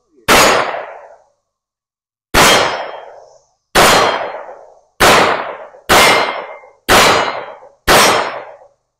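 A handgun test-fired outdoors: seven loud, sharp shots, each with a ringing decay. After the first shot there is a pause of about two seconds, then the rest follow at a steady, roughly one-second pace.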